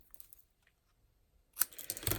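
A couple of sharp snips of scissors cutting paper near the end after a quiet stretch, with light rustling and handling noise.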